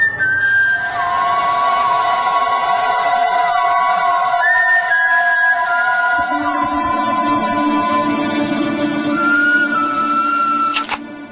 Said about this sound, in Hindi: क्योंकि आप सीटी बहुत बढ़िया बजाते हो